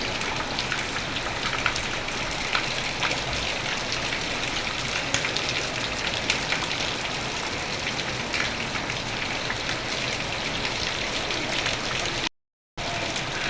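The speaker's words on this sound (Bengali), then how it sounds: "কত জোরে বৃষ্টি হচ্ছে" Heavy rain pours down in a dense, constant roar of drops hitting surfaces, loud and unbroken apart from a brief cut near the end.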